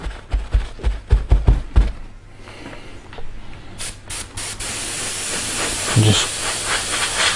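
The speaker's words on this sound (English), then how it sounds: "dry back with the airbrush" An airbrush blows a steady hiss of air over freshly painted model railway station platforms to dry them, after a run of knocks and taps, with a brief spoken word.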